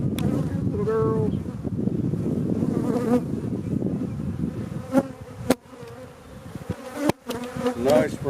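Honey bees buzz thickly around an open, weak hive during an inspection, a close, continuous drone with occasional knocks and clicks of frames being handled.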